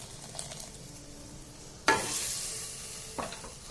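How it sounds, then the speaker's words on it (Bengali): Grated carrots with warm milk being stirred in a pan for carrot halwa, starting quiet and then opening into a sudden burst of bright sizzling and stirring that carries on, with a brief later scrape. "তারপর একটু নেড়ে চেড়ে সবগুলোকে মিশিয়ে দিয়ে একটু সিদ্ধ হওয়ার জন্য ঢাকা দিয়ে রাখবো।"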